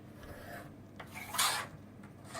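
A pencil drawn along a ruler on paper gives a few short, soft scratchy strokes, one slightly louder swipe in the middle, close and quiet with no talking.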